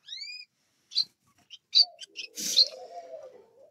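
A pair of diamond doves calls indoors with short chirps and soft, low cooing notes in scattered bursts, close and clear against a quiet room.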